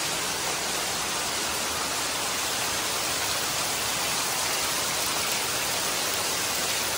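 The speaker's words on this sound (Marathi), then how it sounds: "खूप पाऊस पडतोय, खूप." A continuous, dense roar of heavy monsoon rain falls in Konkan, Maharashtra, India, an unbroken wash of drops hammering surfaces close by, steady in level from start to end, with no talking.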